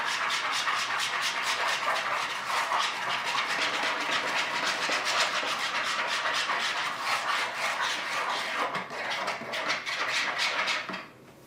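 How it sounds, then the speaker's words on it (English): A wire whisk beating a thickening pudding mixture in a bowl, a continuous rapid rhythmic clatter and swish at steady volume, close up, fading out at the end. "And just beat it with a whisk."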